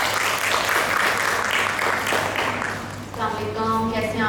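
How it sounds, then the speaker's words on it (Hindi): An audience at a baking taste-challenge show claps steadily to welcome a chef onto the stage; the dense applause fades after about three seconds and a voice begins speaking. "तो आप सबकी भरपूर तालियों में वेलकम करते हैं शेफ शगुफ्ता फारूक।"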